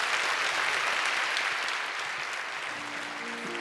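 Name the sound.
church congregation applause for the newly baptized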